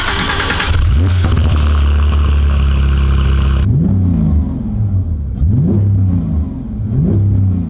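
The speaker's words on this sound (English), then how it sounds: "So here we are in the GT3 Touring, driving away from Hexagon Classics for the first time." A Porsche 911 GT3 Touring pulls away, its engine revving loudly and climbing through several rising gear pulls, with a dense roaring burst early on giving way to repeated upshifts as the car drives off.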